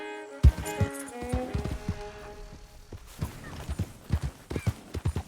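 Horse hooves clip-clop in Red Dead Redemption II, a heavy thud followed by an irregular walking beat of hoof strikes on hard ground, close and clear, with a brief low whinny early on.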